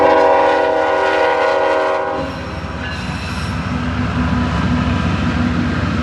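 A Norfolk Southern freight train passes close by at a busy Midwest railfanning spot, its horn sounding loud and steady at first, then giving way to the heavy rumble and rolling rattle of the cars.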